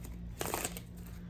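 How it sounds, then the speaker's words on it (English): A deck of tarot cards being shuffled, a short close burst of riffling and crinkling in the middle of a low steady hum. "I'm gonna give it a shuffle."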